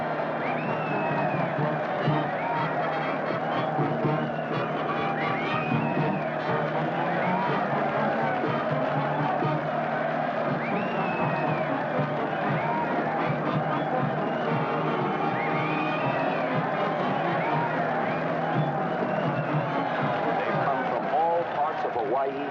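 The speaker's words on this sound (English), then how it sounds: "And look at that mob waving and cheering." A large outdoor crowd cheers and waves to welcome long-lost castaways home to a Hawaiian shore, a steady dense roar of distant voices running unbroken throughout under a constant background wash.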